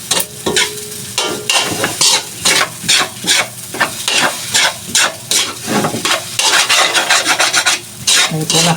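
A spatula scrapes and stirs garlic fried rice mixed with egg in a hot pan for a breakfast sinangag: steady, loud rhythmic scraping strokes over a continuous sizzle, close up, with no talking.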